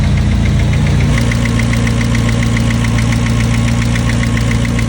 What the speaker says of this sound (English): I had a car that had a weird clicking noise,